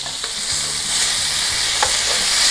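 Duck breasts sear loudly in a hot skillet, a dense steady sizzle broken by a few clicks and scrapes as the pieces are turned over.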